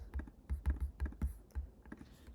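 Computer keyboard arrow keys tapped in quick, uneven bursts during layout work, a dozen or so close, quiet clicks with short pauses between them and no talking.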